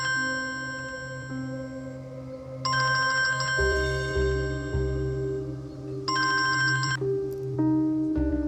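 A mobile phone ringtone in a Turkish drama scene, a repeating melodic ring in loud bursts over low background music, with no talking.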